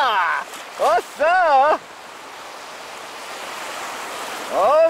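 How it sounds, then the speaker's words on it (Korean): Big sea waves roll in during a sea kayak tour around Muuido, a loud, broad wash of surf and wind that fills the middle of the clip, with excited voices talking before and after. "집채만한 파도가 들어옵니다."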